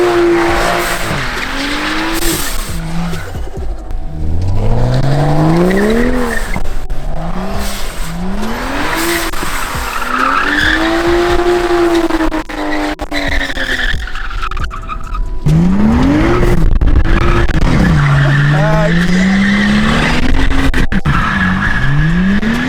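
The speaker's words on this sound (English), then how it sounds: "All right, let's get some donuts." A modded BMW 435i spins donuts, its engine revving up and down in rising and falling sweeps while the tires screech and skid loudly and continuously, close by throughout.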